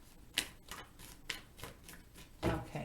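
Tarot cards are shuffled by hand, a series of soft, close riffling bursts with short pauses between them, quiet and alone, ending in a louder flurry.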